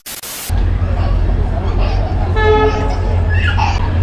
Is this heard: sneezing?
no